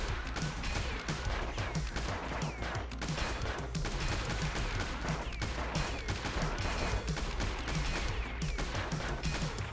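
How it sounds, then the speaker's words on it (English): Rapid video-game gunfire from Kung Fury: Street Rage, dense bursts of shots and impacts firing continuously over a backing music track, loud and busy throughout with no speech. "Just open fire. Just shoot everything."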